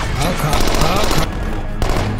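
Gunfire from a Walking Dead episode, a rapid burst of loud shots crackling for about a second, then a pause and a couple more sharp reports, with people talking over it.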